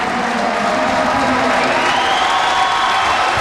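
Iowa Hawkeyes fans stand and cheer at a basketball game, giving loud, sustained crowd applause and roaring that fills the whole clip, with scattered whoops.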